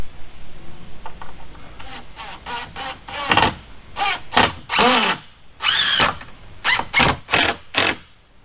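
A power drill drives 2.5-inch construction screws into T1-11 siding, sounding as a series of short, whirring bursts of varying length with brief pauses between them, close and fairly loud.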